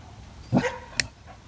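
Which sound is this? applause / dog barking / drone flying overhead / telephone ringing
dog barking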